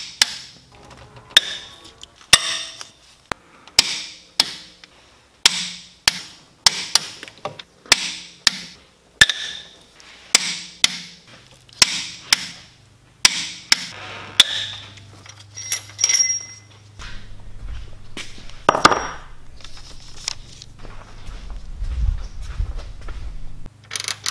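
A torque wrench on a Cummins diesel engine, a long series of sharp metallic clicks and clacks at a steady pace, close and fairly loud, later joined by low rumbling and handling noise.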